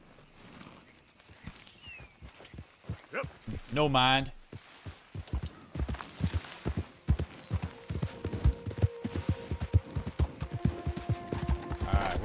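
Horse hooves clip-clop steadily in Red Dead Redemption 2, a walking rhythm of close, regular hoofbeats that continues under a voice, with a brief whinny-like burst partway through.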